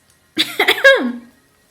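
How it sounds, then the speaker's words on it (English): A single short cough, close and fairly loud, ending in a brief voiced throaty tail; silence before and after. "I just always feel like I need to cough from time to time."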